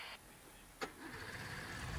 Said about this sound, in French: Fais tourner le moteur.